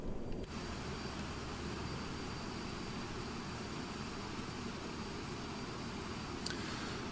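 An Avro Vulcan's jet engines run in Microsoft Flight Simulator 2020, a steady, dense roar that holds evenly from start to finish with no talking.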